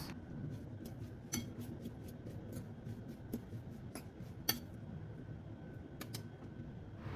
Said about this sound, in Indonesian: Ini kita haluskan menggunakan garpu aja seperti ini sampai dengan benar-benar halus.